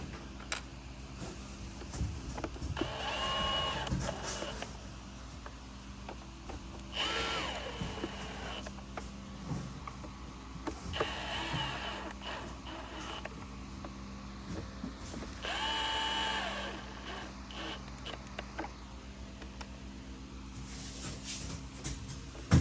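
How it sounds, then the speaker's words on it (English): A power driver runs screws back into a Hoover Commercial Insight vacuum in four separate whirring bursts of a few seconds each, with quiet handling between them. "very carefully put these screws back in"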